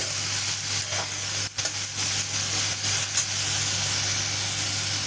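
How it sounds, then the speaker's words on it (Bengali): Bottle gourd fries in spiced masala, giving a loud continuous hiss and sizzle with a steady low hum and faint stirring movements, with no voices. "এখন ভালো করে ভেজে নেব লাউটা মশলার ভিতরে।"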